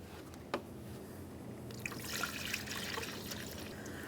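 Coolant trickles through a funnel into the radiator of a 2012-2015 Honda Civic 1.8L I4. The faint, soft pour grows steadier about halfway through, with one small knock near the start.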